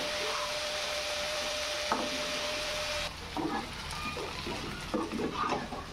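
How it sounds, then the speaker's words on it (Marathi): Fried paneer gets stirred in a sizzling pan for chilli paneer, first a steady frying hiss, then scraping, clattering stirs with irregular bumps as the pieces are turned, close and without talk. "चला आता आपण ही तळून घेतलेली पनीर टाकून घेऊ आणि व्यवस्थित ढवळून घेऊ."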